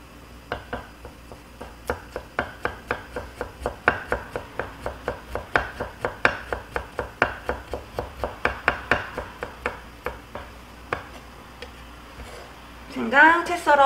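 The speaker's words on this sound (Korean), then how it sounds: "바늘구멍에 들어갈 정도로 실처럼 가늘게 썰어주시면 돼요." A kitchen knife slices ginger into very fine, thread-thin strips on a cutting board: a long run of rapid, even, crisp taps, close and clear, ending in a brief voice-like sound.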